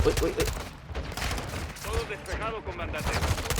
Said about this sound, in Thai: เรามี M203 เหลืออยู่ 6 ลูก ยิง